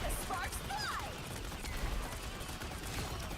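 Rapid bursts of gunfire from a character in a game, with sparks flying, blend into a dense, constant wash of game effects while a voice talks over it.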